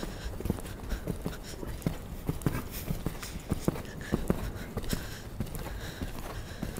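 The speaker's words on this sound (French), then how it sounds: "Tu peux prendre le petit galop." A horse at a gentle canter in a riding lesson, hoofbeats thudding in a steady three-beat rhythm on soft ground, with a faint voice heard now and then.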